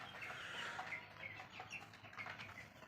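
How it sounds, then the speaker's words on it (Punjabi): Half-grown chicks roam around a house near scattered feed, giving soft clucks and light chirps with a brief flutter, close and fairly quiet. "ਇਹ ਵੀ ਵੱਡੇ ਚੂਚੇ ਹੋ ਗਏ ਹੁਣ ਤਾਂ ਕਾਫੀ ਬਾਕੀ ਉਧਰ ਫਿਰਦੇ ਆ ਸਾਰੇ"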